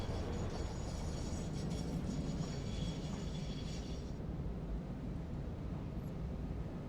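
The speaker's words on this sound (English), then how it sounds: "Train's engaged its brakes." A train in the video game Satisfactory brakes as it pulls into a station, a steady low rumble with a high hissing screech that cuts off partway, leaving a fainter rumble.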